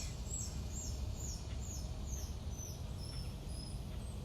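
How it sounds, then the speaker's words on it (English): A bird repeats short, high chirping calls in a steady series, fairly faint over a quiet outdoor background hum. "Hear that bird?"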